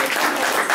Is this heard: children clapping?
yes